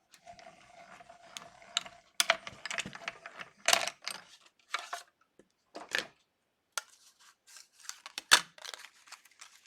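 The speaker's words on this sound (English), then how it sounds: "putting it through the cut and emboss machine" A layered paper card sandwich is cranked through a manual cut-and-emboss machine, giving close, dry mechanical ratcheting and clicking in uneven bursts separated by short pauses.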